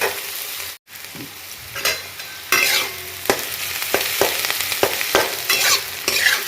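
Onions frying in a pan for a coconut-based recipe, a steady sizzle broken by repeated scraping and stirring knocks, with a brief silent gap near the start.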